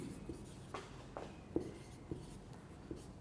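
Marker or chalk writes on a board during a chemistry lecture, producing faint, quiet strokes and small taps spread unevenly over a few seconds, with no voice over them.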